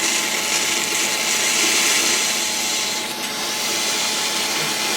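An HP 6035A high-voltage power supply arcing into a block of tofu, a continuous harsh buzzing, crackling hiss that holds loud and steady, with a brief dip near the middle.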